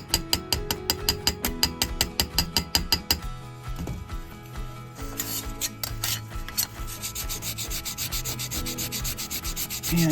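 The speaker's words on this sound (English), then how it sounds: "And give it some sandpaper." Sandpaper rubs over stainless steel trim in a workshop, first in quick regular strokes, then in steadier, grittier scraping, close and fairly loud with no talk.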